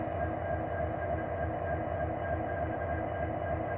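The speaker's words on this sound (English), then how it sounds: "I think we got a train parked here, waiting for a crew to come maybe later on tonight." A stationary Norfolk Southern freight train sits on a trestle, giving off a steady, continuous low rumble and hum, most likely idling locomotive engines, with a faint high whine. The sound is even throughout, with no talking.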